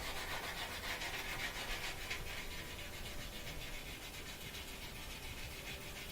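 Burnt grease being scrubbed off an oven door with rubbing compound after an oven cleaner: a continuous close rough rubbing, dense and even throughout, with no talk.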